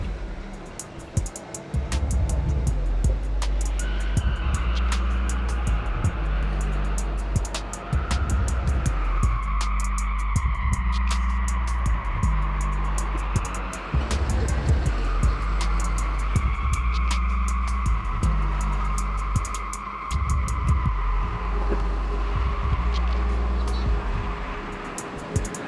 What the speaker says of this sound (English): this is the electric vehicle test drive